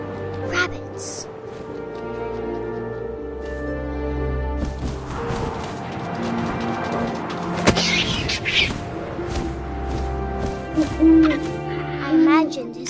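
Owl hoots in the video game What Remains of Edith Finch, set against a sustained musical drone and ambient game sound, with a voice talking over much of it.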